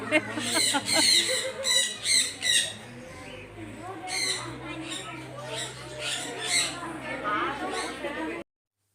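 Harsh, repeated squawks in loud bursts from many caged parrots calling close by on a farm, over a low steady hum, with a short quieter stretch midway.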